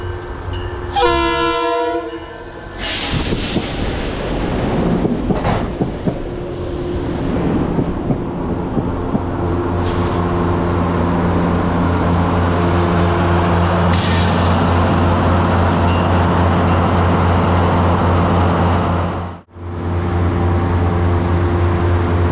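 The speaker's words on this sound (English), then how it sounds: "train 5559 charges into the station with CT Rail BL20 GH 125 stopping directly" CT Rail BL20 GH 125 locomotive leading train 5559 into a station, horn blasts first, then the loud rumble of the train pulling up and braking to a stop right in front, engine droning steadily afterward.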